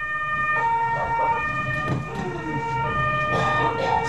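An ambulance siren wails in a repeating rising and falling pattern over a steady engine drone, loud and close throughout.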